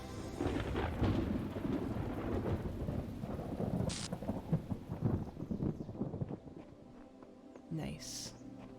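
Steady rain and rolling thunder in the video game The Talos Principle, a dense rumbling downpour that eases off toward the end, with a brief sharp tone near the close.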